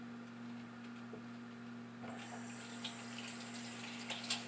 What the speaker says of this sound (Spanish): Estoy enjuagando mis manitas.